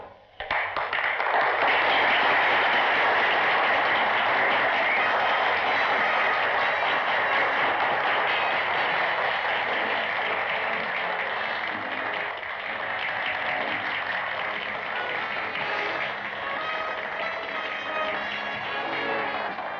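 An audience at a beauty contest for finalists breaks into sustained, dense applause that swells quickly and holds steady at a loud level for nearly twenty seconds, a continuous roar of many hands.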